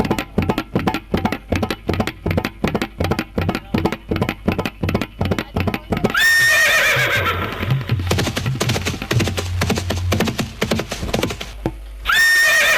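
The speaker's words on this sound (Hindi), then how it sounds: "घोड़ा साउंड आ गया" A horse sound effect plays loudly: a fast, even run of clip-clop hoofbeats, then a long, shrill neigh and whinny, cut off briefly before it starts again.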